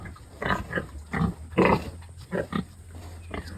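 Breeding sows and gilts grunt and squeal while receiving a parvo vaccine booster on a farm, giving several short, close, fairly loud bursts with brief pauses between them.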